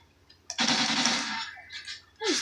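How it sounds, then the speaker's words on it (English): Bursts of loud, dense gunfire in Call of Duty erupt close by, one long stretch followed by a shorter burst after a pause. "Hey, someone shot at me."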